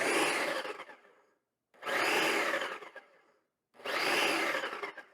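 Ninja Professional Plus food processor chopping cabbage on its low setting, running in three separate whirring bursts of about a second and a half each, with short silent gaps between them, close and loud.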